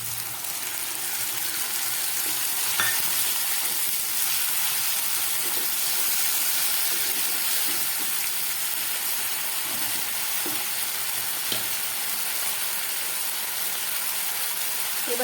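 Chicken and potatoes fry in a pan as tomato paste goes in, an even, steady hiss of sizzling oil with a few faint knocks.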